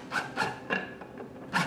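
A screw being driven by hand into wood to fix a stage button for a sharpening hone, giving repeated short rasping, rubbing bursts at a steady rhythm, close and moderately quiet.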